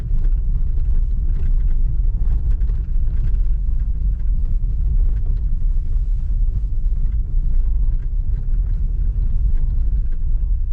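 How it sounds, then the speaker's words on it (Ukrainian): Interior road noise in an electric Nissan Leaf 2020 or VW e-Golf 2019 driving over cobblestones, a continuous loud, rough low rumble with fine rattling texture and no talking. "Можете порівняти, який шум стоїть в автомобілі, коли ми їдемо на бруківці."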